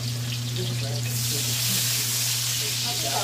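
Onions frying in a pan, a steady broadband sizzle that swells louder partway through over a low constant hum.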